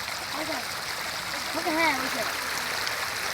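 Steady rushing stream water pours down from the hills after rain at Sada Pathor in Bangladesh, a continuous broad wash of flow with a voice briefly speaking over it.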